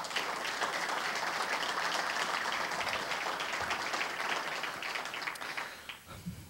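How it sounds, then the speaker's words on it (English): An audience at a police department awards ceremony claps for the dispatch center, a dense, sustained applause that holds steady for several seconds before tapering off near the end. "let's give dispatch a round of applause as well"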